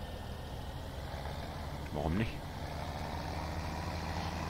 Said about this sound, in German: fahre jetzt mal mit dem Trecker rein